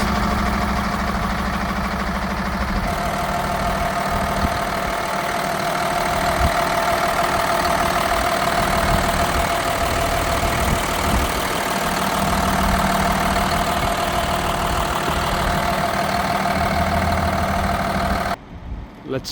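The engine of a 2019 Hino 268A box truck idles steadily nearby, a continuous low diesel rumble with light knocking that ends abruptly near the close. Someone talks over it.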